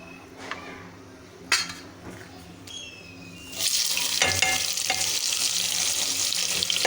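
Chopped onions hit hot oil in a pan with a sudden loud sizzle that holds steady, after a few quiet clinks of utensils and dishes.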